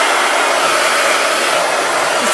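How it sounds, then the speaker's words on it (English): A hair dryer blows steadily and loudly up close, heating a model volcano, a constant airy whoosh with no pauses and no voices. "This is my hair dryer."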